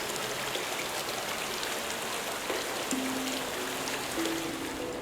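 In the video game Obduction, water flows steadily to fill a basin for plant roots, a continuous splashing rush like rain or a stream, with a few faint tonal blips over it and no talking.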